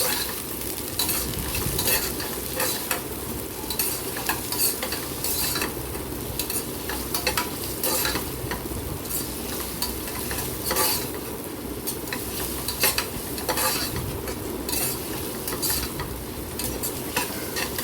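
Sliced onions sauté in a pan for a vegetable pulao, a close, continuous sizzle and crackle of frying with repeated scraping strokes of a stirring spoon.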